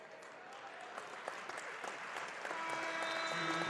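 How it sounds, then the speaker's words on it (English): A wrestling crowd at the Covelli Center claps appreciatively after an Ohio State–Illinois 149 lb Big Ten bout. Dense, steady applause rises slightly toward the end, with scattered sharper claps standing out. "Appreciative round of applause from those here at the Covelli Center for the ride of Sammy Sasso"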